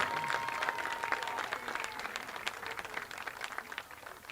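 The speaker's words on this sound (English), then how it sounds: "Let's have another round of applause for these five student athletes" A crowd at a college field hockey championship applauds five student athletes named to the all-tournament team, a soft, distant wash of clapping that holds steady throughout.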